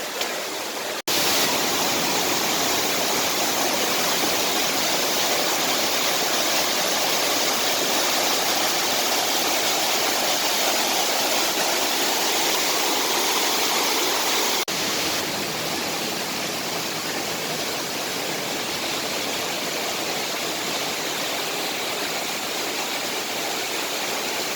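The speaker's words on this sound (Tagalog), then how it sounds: "Ayun, ang falls." Sicao Falls roaring with a dense, continuous rush of falling water, loud and close, steady throughout with no voices.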